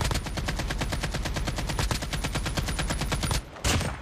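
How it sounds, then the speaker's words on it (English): Rapid automatic gunfire from a silenced AK-47 in the Call of Duty Mobile video game, a long steady burst of close, loud shots that breaks off briefly near the end and then resumes for a moment. "My silent AK-47"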